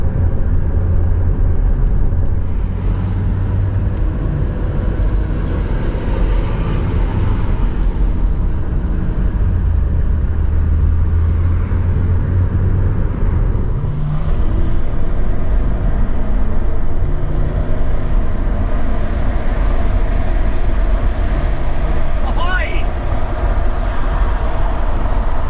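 A 2011 Range Rover L322 with the 4.4 TDV8 diesel accelerates on a motorway, a steady loud drone of engine and road noise heard from inside the cabin, continuous throughout with a slight swell partway.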